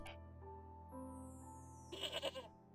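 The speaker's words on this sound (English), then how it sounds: "explain the goat noises is really annoying" A brief burst of goat bleating in a video game, a few wavering cries close together, over a quiet electronic tone bed.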